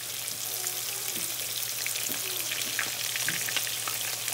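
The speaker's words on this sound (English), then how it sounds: "we're gonna put them in the old cast iron skillet and pan sear them suckers" Fish pan-sear in a cast iron skillet outdoors, a dense steady sizzle with crackling pops and a low background hum, close and even throughout with no speech.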